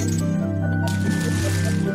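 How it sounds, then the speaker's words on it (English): Water level rising in the video game Zelda: A Link Between Worlds, a bubbly, gurgling liquid effect over steady game music, with a brighter rushing wash starting partway through. "we can raise the water level one more time"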